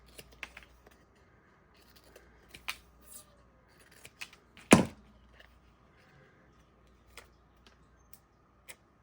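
Scissors trim a paper sticker for handmade ephemera, a handful of quiet close snips and one sharper, louder cut midway, with light tabletop clicks between.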